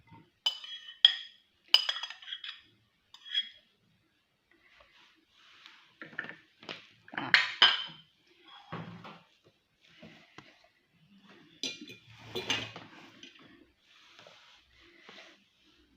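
Bean salad with chicken hearts and mushrooms being stirred together in a dish, giving a series of light clinks and soft scraping taps, brief and irregular, close and fairly quiet with pauses between strokes.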